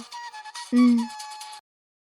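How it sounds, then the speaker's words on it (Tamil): An incoming call sets off an electronic phone ringtone, a short bright melodic tone that plays for about a second and a half and then stops. "பாட்டி எதுக்கு இந்த நேரத்துல கால் பண்றாங்க?"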